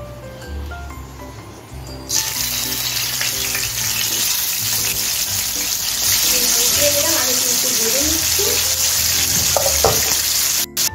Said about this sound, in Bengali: মাছটা আমি সরষের তেলে ভাজবো।